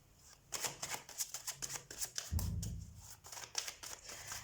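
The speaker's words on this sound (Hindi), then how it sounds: "शफल कर देती हूँ मैं।" Tarot cards are shuffled by hand in a quick riffling series of soft, crisp flutters, close and fairly quiet, with one brief low thump partway through.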